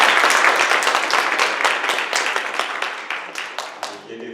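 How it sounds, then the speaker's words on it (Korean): A church congregation applauds during a worship service to welcome a visiting family, a loud, dense round of clapping that slowly fades toward the end. "일어나 주시면 저희가 박수를 환영하겠습니다."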